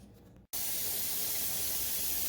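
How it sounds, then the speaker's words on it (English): Steam hisses from the vent of a pressure canner. After a faint lead-in and a brief gap, a loud, steady, close hiss begins and holds without a break. "do you see the steam coming out of the vent?"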